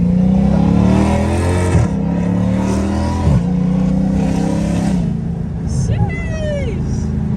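A 2800 hp Dodge Challenger Hellcat Redeye revs and accelerates in a loud, close engine roar, with pitch climbing through several gear pulls before easing off, while people talk inside the car.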